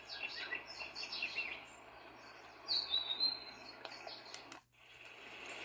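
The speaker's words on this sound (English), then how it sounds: "Back to the birds." A portable white noise machine plays a bird soundscape, with faint chirps and tweets layered over a soft insect-like background hiss, quiet and continuous.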